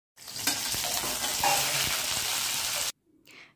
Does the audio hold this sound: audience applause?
no